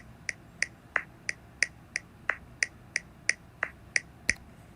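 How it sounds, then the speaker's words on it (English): Sharp, evenly spaced metronome clicks tick at a steady tempo, about three per second, crisp and alone against a quiet background. "And then finally, just the metronome"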